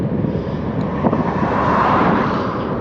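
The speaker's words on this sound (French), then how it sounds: "Le vent de face" Strong headwind roars across the microphone of a cyclist riding loaded through the Pyrenees in rain after leaving the Montagne Noire, a loud, steady broadband buffeting that swells slightly toward the end.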